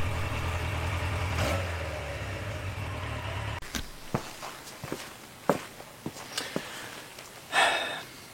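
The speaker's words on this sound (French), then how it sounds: "le moteur il part dans tous les tours, tu sais pas pourquoi. Et puis, il va se calmer tout seul." A car engine with a fault surges on its own, humming loud and close with a rising pitch before cutting off abruptly, followed by scattered footsteps and knocks.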